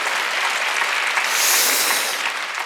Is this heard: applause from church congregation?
yes